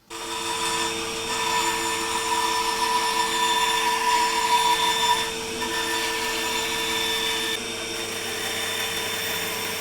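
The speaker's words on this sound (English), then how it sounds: "bandsaw." A bandsaw cuts through sapele wood with a steady, close whine and a hissing rasp that runs continuously, the tone dipping slightly midway as the cut progresses.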